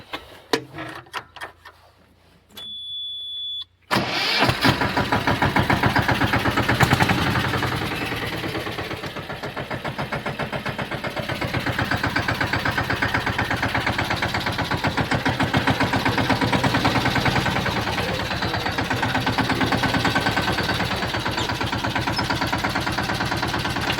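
A spraying machine engine used for applying pesticide coughs through a few brief pulls, then catches and runs loud and steady with a rapid chugging pulse that continues to the end.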